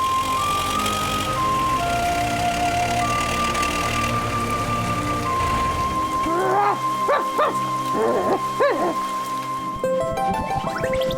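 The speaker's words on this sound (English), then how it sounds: "I can't wait for this rain to stop" Cartoon rain on a harbor in a kids' animated story, a steady hiss of falling drops under musical tones and playful sound effects, with a few springy boings near the end.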